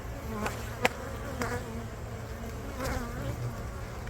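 Honeybees buzzing around an opened hive during an inspection, a continuous close hum with individual bees whizzing past at intervals.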